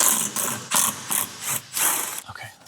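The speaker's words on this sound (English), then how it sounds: "we have a lot of 8mm to remove to get this panel off." A ratchet backing out 8mm bolts from an underbody panel on a twin-turbo diesel BMW, bursts of rapid metallic clicking in about six close, loud pulls separated by short pauses.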